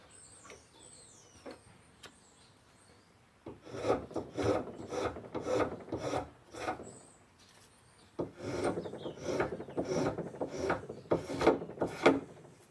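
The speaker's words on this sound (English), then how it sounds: "I'll turn the work over before I get down to the line and shave the other side." A wooden axe handle clamped to a bench is shaved by hand, giving bursts of scraping, rasping strokes in a steady rhythm, close and fairly loud, after a quieter stretch with a few light taps.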